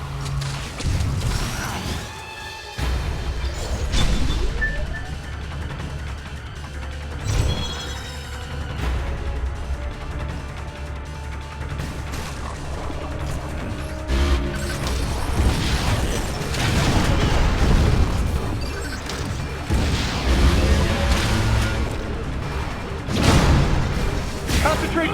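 Missiles launching and blasts going off in the Wii game Metroid: Other M, a dense stretch of booming detonations, mechanical clanks and creaking metal running for the whole clip, with voices speaking over the action at times.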